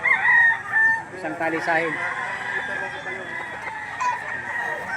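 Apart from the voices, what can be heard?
chickens at an auction market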